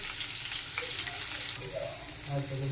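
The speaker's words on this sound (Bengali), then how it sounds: "চিকেনটা হয়ে গেছে এবার উচ্ছেগুলো আমি ভেজে নেব" Bitter gourd slices frying in oil in a pan, a steady close sizzle throughout with occasional stirring scrapes.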